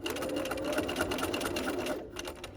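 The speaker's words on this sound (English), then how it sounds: "I'm going to pivot, stitch on my top stitching here" A sewing machine top-stitches a fabric dog leash with a continuous, close, rapid mechanical whir that runs steadily before easing slightly near the end.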